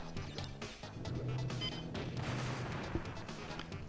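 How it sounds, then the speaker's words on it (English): In Crash Bandicoot 3, the fruit bazooka blasts nitro crates: a run of sharp, crashing explosive bursts and thuds over busy game music, with one strong punchy hit near the end. "all you do is just shoot nitro crates. Oh, and now we have the fruit bazooka."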